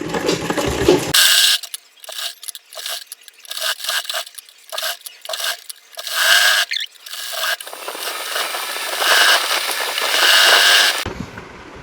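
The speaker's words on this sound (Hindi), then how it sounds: "यहाँ तक मोड़ेंगे और सिलाई लगा लेंगे।" A sewing machine stitches a folded seam on a suit, running in bursts of rapid mechanical clatter that stop and restart, with a longer steady run near the end, loud and close.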